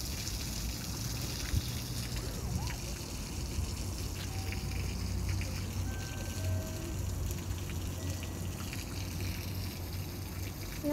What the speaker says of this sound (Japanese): 池の水がなんかジャーって滝みたいに流れてただけ